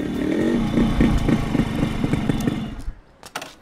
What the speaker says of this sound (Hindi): बाइक चकाचक होते ही हम चल पड़े डॉन के घर।